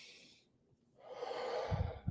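A single deep breath, close and quiet: a soft airy exhale, a brief pause, then a long rushing inhale.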